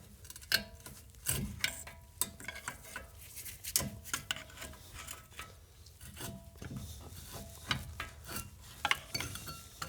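Metal clanks, scrapes and sharp knocks ring out close by as a small pry bar works a front brake part loose on a 1997-2006 Jeep Wrangler TJ, coming in irregular bursts with no talking.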